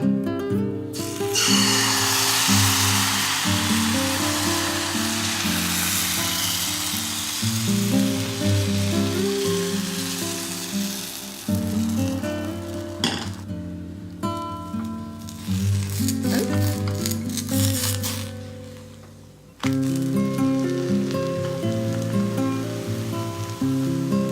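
Vegan crepe batter sizzling in a hot pan, a steady close hiss with crackling, interrupted a few times by brief clicks and quieter gaps as the pan is moved.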